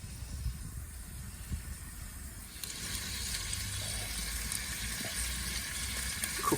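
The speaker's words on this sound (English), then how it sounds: "And here we go, hear that sizzle." Lamb chops seasoned with rosemary and thyme sizzle in a hot Roccbox oven, a steady close frying hiss that swells louder partway through and holds without talk.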